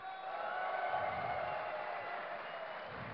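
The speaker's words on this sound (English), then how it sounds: "If you would like the Terran player Nama to win, give a cheer for Nama!" A distant crowd at a StarCraft II match at DreamHack 2010 cheers and applauds in a continuous wash of noise, fairly faint and steady throughout.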